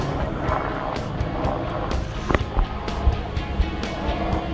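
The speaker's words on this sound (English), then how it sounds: "Chopper." A helicopter passes overhead at a fishing spot by the water, its steady broad rumble filling the air with a few faint knocks and bumps mixed in.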